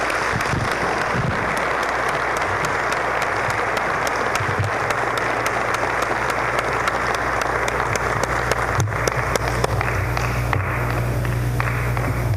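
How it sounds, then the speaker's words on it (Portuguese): A crowd applauds an honoree at a 2014 Amnesty Caravan forum, a steady, sustained clapping that fills the room without a pause. "Uma salva de palmas à nossa homenageada."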